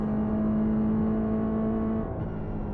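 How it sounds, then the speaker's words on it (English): A race car's engine in a racing video game drones at a steady pitch, then sags and bogs down slightly near the end, loud and continuous with no voices. "I just heard the engine kind of just like bog down a little bit."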